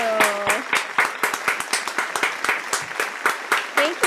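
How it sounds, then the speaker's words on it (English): Lively applause from an audience at a live fresh pasta cooking class, a dense patter of claps lasting several seconds with a few cheers and voices mixed in near the start and end. "let's give a big round of applause for Dipika for writing her first book out there"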